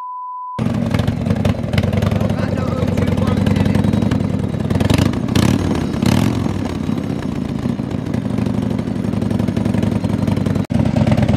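A Harley-Davidson motorcycle fitted with a swapped exhaust idles nearby with a loud, lumpy, loping rumble, with a few brief throttle blips.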